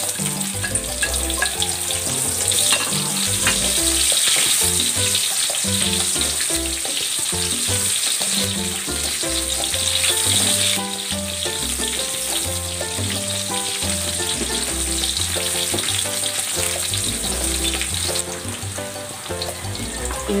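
Onions sizzling in a hot pan while pancit canton guisado is cooked, a steady loud frying hiss running throughout with music playing over it and no talking.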